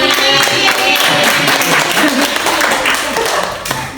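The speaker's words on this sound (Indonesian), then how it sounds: "Oke, tepuk tangan buat kita semua." Classroom applause during a micro-teaching lesson: dense, steady clapping from a group of students that fills the whole stretch, with voices mixed in, then thins slightly toward the end.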